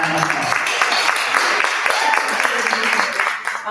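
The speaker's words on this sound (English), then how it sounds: "Let's give ourselves a round of applause." Applause from a conference audience at the close of a policy event, a steady wash of clapping from a sizeable crowd, moderately loud and sustained, tapering slightly at the end.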